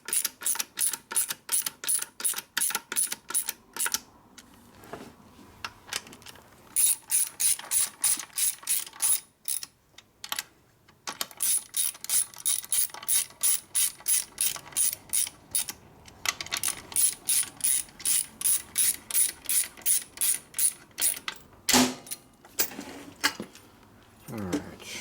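A ratchet clicks in rapid bursts while engine case bolts are lightly tightened on a 1961 Harley Sportster XLCH Ironhead during a motor rebuild, with repeated runs of close, crisp pawl clicking separated by short pauses.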